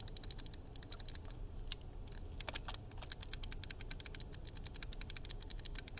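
A Kailh Box keyboard switch is pressed over and over, giving a fast series of crisp, sharp clicks close up, with a brief irregular pause partway through.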